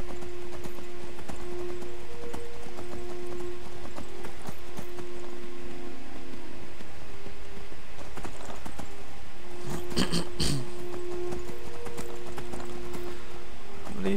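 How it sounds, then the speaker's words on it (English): Horse hooves clip-clop steadily while riding across terrain in the Skyrim video game, a continuous rhythmic trot at close range with occasional game sounds and no talking. "if I'm turning out to be bad at driving around on my horse"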